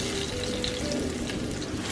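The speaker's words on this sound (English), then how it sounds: "All right, it's been frying up for about 5 minutes." Steady sizzling of plantain frying in hot oil, a continuous crackling hiss with no talking.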